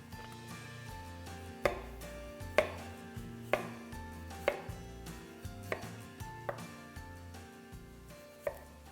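Winter garden vegetables cut into chunky pieces on a board, with steady knife chops landing in an uneven rhythm under soft tonal background music.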